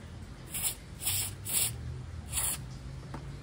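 Four short, sharp hisses of liquid spray onto the back of an appliance. They come close and fairly loud in a quick, uneven rhythm over a faint low hum.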